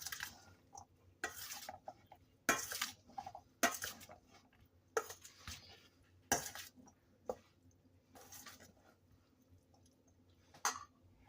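English pea salad tossed with utensils in a bowl, producing soft, close scrapes and clinks in irregular bursts every second or so, with quiet gaps between.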